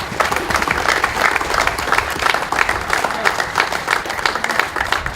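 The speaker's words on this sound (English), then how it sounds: "So I want you all to give yourself a round of applause." Crowd applause at an outdoor Cape Verdean flag raising, steady dense clapping from many hands lasting several seconds, loud and continuous with some cheering mixed in.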